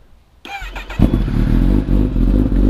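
A motorcycle fitted with an SC Project SC1-R aftermarket exhaust fires up after a brief starter whine, then idles and revs with a deep, throaty rumble close by.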